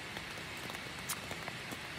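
Rain falls outside during a foothills thru-hike, a faint, even hiss of steady rainfall with scattered soft drop ticks and no voices.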